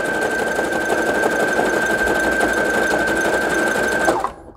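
A sewing machine runs steadily for about four seconds, closing off the last stretch of stitching around the border of a fabric bookmark, then stops abruptly near the end.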